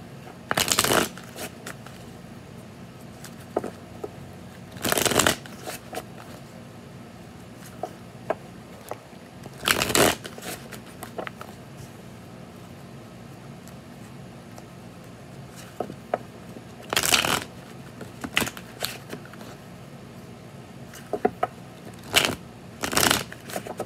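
An Edgar Allan Poe tarot deck is shuffled in several separate bursts of quick riffling card flutter, close and crisp, with quieter handling noises between them.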